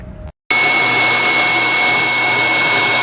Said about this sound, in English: I can put the shop vac on here and just walk away.